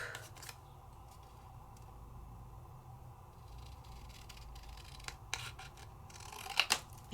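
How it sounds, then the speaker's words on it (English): Scissors cutting paper along die score lines, faint snipping and rubbing over a low hum, with a couple of sharper cuts near the end and no talk. "And now all I have to do is cut off where my score lines are."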